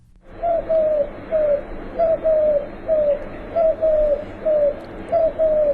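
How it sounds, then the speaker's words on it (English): A dove-family bird, bigger than a robin and smaller than a crow, coos in a clear, repeated rhythm, about eight paired calls of even pitch spaced roughly evenly apart over quiet background. "It's bigger than a robin, smaller than a crow, member of the Columbidae family."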